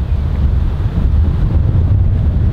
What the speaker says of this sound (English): I hope the audio is good here guys, because it's so windy